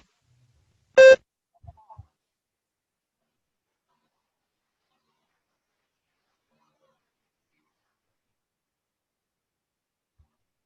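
A single short electronic tone sounds during a TOEFL speaking test, crisp and loud against near silence, followed by a couple of faint soft knocks.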